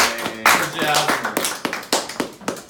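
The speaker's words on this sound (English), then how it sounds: "Another round of applause for Jasmine." Short burst of audience clapping for a sideshow performer at a weirdo show, a few sharp, uneven claps rising and fading, mixed with talking voices over it.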